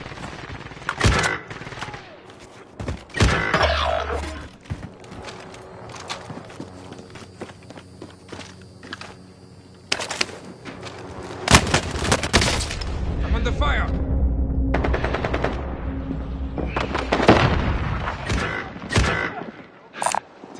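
Warzone video-game gunfire, with scattered loud shots and bursts of automatic fire mixed with footsteps and running. A quiet stretch in the middle is followed by heavy, sustained firing near the end.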